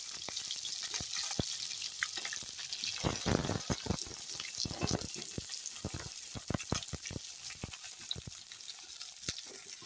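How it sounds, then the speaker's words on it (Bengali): Small pieces of potato fry in oil for a ghugni dish, giving a quiet, crackling sizzle with frequent sharp pops and spatula scrapes, steady and close with no talking. "আলুটা দেখো সুন্দর করে ভেজে নিচ্ছি"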